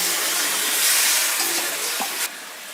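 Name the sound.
broth poured into frying potatoes and cauliflower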